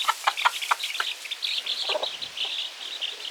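A hen clucks and chatters in quick, soft bursts, close by, with faint chirping mixed in.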